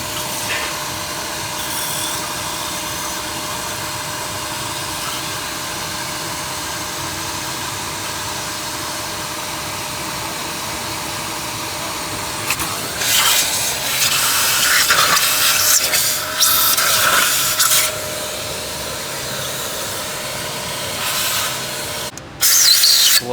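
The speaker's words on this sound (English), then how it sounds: "Just brake cleaning out all the head bolt holes." Brake cleaner sprayed into the head bolt holes of a 2021 Volkswagen Tiguan engine, then compressed air blowing them out, heard as several loud close hissing bursts in the second half after quiet workshop noise.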